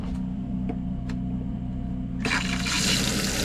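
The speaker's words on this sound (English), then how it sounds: "Now we're getting some water out of the hot side." Water rushes from the hot side tap of a 2015 Keystone Bullet travel trailer during winterizing. A steady low hum runs throughout, and a broad loud flow surges in near the end.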